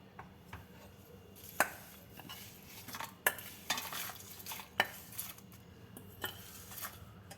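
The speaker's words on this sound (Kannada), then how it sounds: "ಈಗ ಇದಕ್ಕೆ ಒಗ್ಗರಣೆ ಸೇರಿಸ್ಕೊಳ್ತಾ ಇದ್ದೀನಿ" A spoon scrapes and stirs through little millet rice with mango as the oil tempering is mixed in, close-up kitchen sounds with irregular sharp clinks and scrapes against the pot over a soft background.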